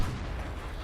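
Incoming artillery fire in a tank video game: a sustained low rumble of distant shelling with dense booming energy, steady and moderately quiet, with no talk over it.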